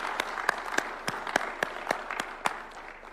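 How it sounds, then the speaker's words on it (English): Audience at a disability bill signing at State House in Kenya applauding, with sharp individual hand claps in a slow, fairly regular beat over a thin, quieter background of clapping. "Let us give her a round of applause."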